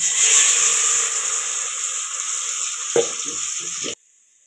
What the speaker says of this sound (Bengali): আমি বাগার দিমু এখন দিমু রসুন